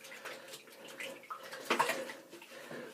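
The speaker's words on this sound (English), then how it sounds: "Now I'll just rinse my brush out so you can see it in all its glory again." A shaving brush is rinsed under a running tap, a steady close splashing and trickling of water with a brief louder gush partway through, alone without talk.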